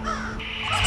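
A single crow caws once, a brief harsh call heard close up over quiet background.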